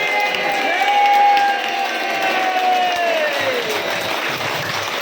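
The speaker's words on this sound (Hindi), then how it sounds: "जोरदार ताली आवाज़ के साथ।" Loud, sustained applause from a crowd fills the whole stretch, dense clapping with some cheering and voices mixed in.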